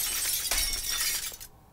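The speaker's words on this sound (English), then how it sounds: "you hear I break some glass" Glass shattering in a bright, loud crash with scattered tinkling fragments, cutting off abruptly into silence.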